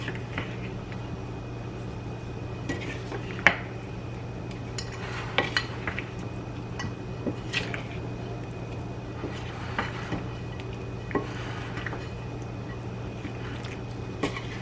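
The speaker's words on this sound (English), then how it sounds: "put our bacon and our green onions on there. And we'll get those worked in." Bacon and green onions being stirred into a potato salad, with soft wet squishing and scattered light clinks of a utensil against the bowl, quiet and close over a steady low background hum.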